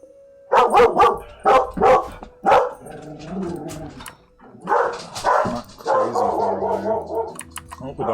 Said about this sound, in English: Oh, the dogs have started up again.